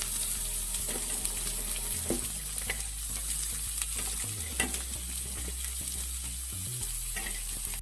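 Onion flowers tipped into hot oil with curry leaves, frying and being stirred, a steady close sizzle with scraping spoon strokes and a few louder bursts.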